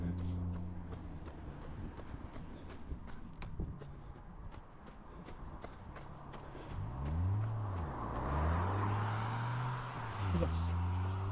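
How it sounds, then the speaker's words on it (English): A car comes up from behind and passes on a road near a stop sign, its engine note rising and sweeping in pitch as it nears during the second half, with footsteps and steady background noise earlier. "some crazy car is behind me,"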